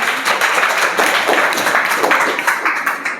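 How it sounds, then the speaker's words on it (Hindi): Children in a classroom clap together in a quick, dense burst of applause that stays steady and close for a few seconds. "ताली बजाइए सब लोग।"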